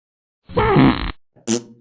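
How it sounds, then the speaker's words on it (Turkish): A loud, drawn-out cartoon fart from the Niloya animated series rumbles for about half a second, followed after a short pause by a brief second burst. "Osuruk."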